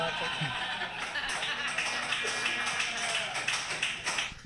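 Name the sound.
applause break after a joke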